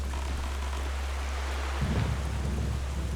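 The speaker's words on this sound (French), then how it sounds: "Déjà, on va sortir de cette tempête." Heavy rain hisses steadily through a thunderstorm in the video game Zelda Wind Waker, with a low rumble of thunder swelling partway through.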